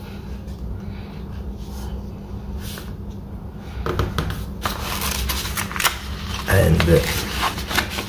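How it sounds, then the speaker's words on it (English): Paper is folded and creased into a triangle for a paper airplane, producing close, papery rustles and a firmer crease crinkle near the end, with a voice speaking briefly. "then fold the triangle up"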